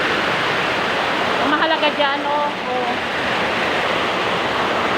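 Water dripping and running steadily from a leak, a constant close rushing wash filling the whole stretch while someone speaks briefly over it.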